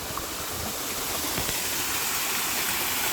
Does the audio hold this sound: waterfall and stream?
yes